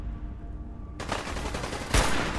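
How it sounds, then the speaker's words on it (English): Video game gunfire in Fallout 4 cuts in abruptly after a quiet moment: a loud burst of rapid shots, with a second heavier blast near the end. "I wanna shoot somebody in the head."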